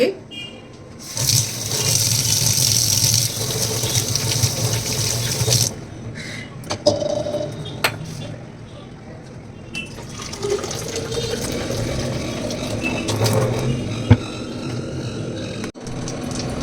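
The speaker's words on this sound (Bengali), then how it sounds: "তো চলো তার হাতটা ধুয়ে নিই" Hands are washed under a running kitchen tap while cooking, a steady splashing stream that stops and starts again, with a voice speaking at times.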